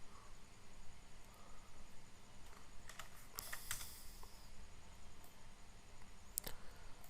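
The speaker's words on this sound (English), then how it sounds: "I can move the robot using the keyboard teleop." Computer keyboard keys clicking as someone types commands to steer a quadruped robot running ROS, soft scattered taps with a denser burst midway, close and fairly quiet over steady background hiss.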